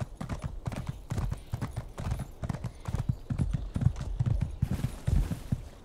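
Horse mount hooves from The Elder Scrolls Online clop in a fast, steady rhythm for several seconds, crisp and close, with no talking over them.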